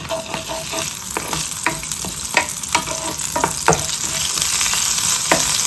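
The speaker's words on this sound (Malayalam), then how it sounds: "എണ്ണ ചൂടാവുമ്പോൾ നമ്മൾ ചില്ലി ഫ്ലേക്സ് കുറച്ച് ഇടുക" Chili flakes sizzle loudly in hot oil, and a spoon scrapes and taps the pan again and again in an uneven rhythm.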